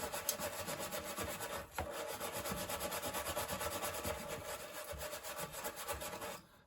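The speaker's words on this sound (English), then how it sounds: "I'm going to try and scrub this a little bit." A heating element from a Miele Professional WS5073 washing machine is scrubbed by hand, making a continuous rapid, rhythmic scraping and rubbing that is close and heard on its own.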